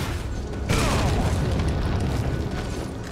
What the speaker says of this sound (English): he'll jump over to engage and you shoot with the rocket launcher